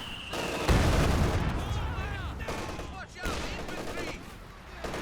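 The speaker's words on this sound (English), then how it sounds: "Machine gun there." Machine gun fire and other battle noise from the real-time strategy game Company of Heroes 2, with dense, continuous bursts and booms blended under a caster's commentary.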